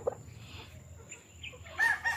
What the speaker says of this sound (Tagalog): Ayan oh, may mga manok din si Boss Mado.